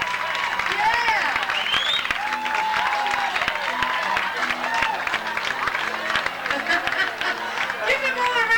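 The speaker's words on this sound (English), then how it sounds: "Keep that applause going." Cruise ship audience aboard Sovereign of the Seas applauding performers, steady sustained clapping from a large crowd with cheering and chatter mixed in throughout.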